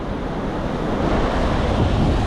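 Sea waves surge and wash over a rocky, pebble-strewn shore with a strong pull, a steady loud roar of surf mixed with wind noise on the microphone and no pauses.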